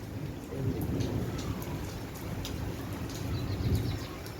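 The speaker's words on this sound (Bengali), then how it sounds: "অনেক বৃষ্টি হচ্ছে দেখেন বন্ধুরা রাতে বেলা আজকে বৃষ্টি হচ্ছে" Steady, dense heavy rain at night hisses with a low rumbling wash underneath, continuous and fairly loud throughout, no voices.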